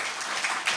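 A church congregation claps to welcome the pastor to the front, a dense, steady patter of many hands sustained throughout with no break.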